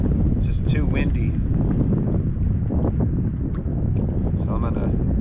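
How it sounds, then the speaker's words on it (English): Strong wind gusts across an open lake during canoeing in the Adirondacks, roaring steadily into the microphone with some faint splashing and rustle mixed in. "It's just too windy."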